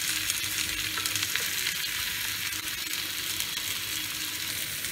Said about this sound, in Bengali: এটা এপিট ওপিট করে হালকা ভেজে